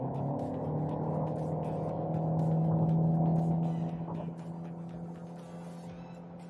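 A Toyota Yaris Cross Premium Luxury accelerates in power mode, its engine note climbing in a steady drone that swells and then eases, heard from inside the cabin with no voices.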